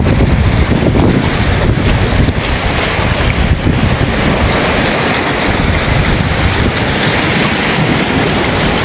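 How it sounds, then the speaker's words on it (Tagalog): Strong sea waves roll and crash at a fishing spot in Baler, Aurora, a dense, loud, continuous roar of surf mixed with heavy wind buffeting the microphone throughout. "Lakas kasi ng alon."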